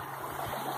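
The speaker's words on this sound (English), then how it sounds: "Here comes the waves, baby." Water washing and splashing close by, a steady rushing wash of small waves with no clear breaks, alone without talk.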